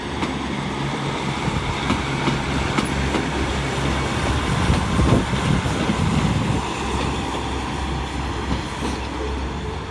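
A train rumbles through Exeter St David's station with steady clattering wheels and a deep continuous drone, loud and close, with no voices.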